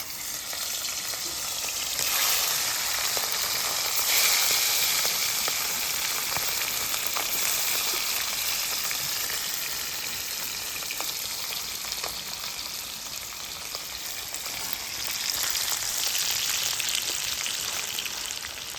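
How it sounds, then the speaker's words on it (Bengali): Pieces of bata fish frying in hot oil in a kadai, a loud continuous crackling sizzle running steadily throughout with no speech. "এখন মাছগুলো ভেজে নেব"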